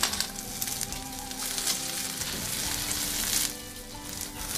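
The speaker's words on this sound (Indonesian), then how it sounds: "Bawang putih dan jahe tumis-tumis, bau harum" Garlic and ginger sizzle steadily in a hot pan during stir-frying, a loud, dense hiss close to the microphone with faint scraping as the aromatics are stirred, easing slightly near the end.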